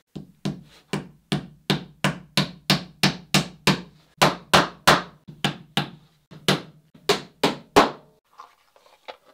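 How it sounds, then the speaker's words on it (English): Hammer driving nails into wooden planking on a Catalina Wherry boat, about twenty sharp, loud close blows in a quick regular rhythm with brief pauses, ending with faint rustling. "Need a heavier hammer."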